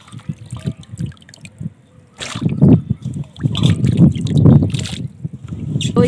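Potatoes being washed by hand in a bowl of water, soft sloshing and trickling that grows louder and busier midway, with gentle splashes close by and no talk.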